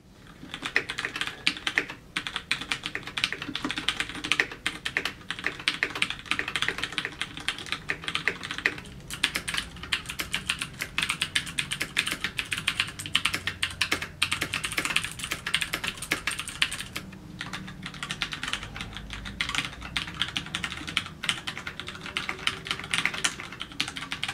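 Steady, brisk typing on a Ducky Shine 2 mechanical keyboard with Cherry MX switches, heard from about half a metre away as a dense run of crisp key clicks and clacks that continues for over twenty seconds without speech.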